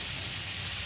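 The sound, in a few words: shrimp frying in a pan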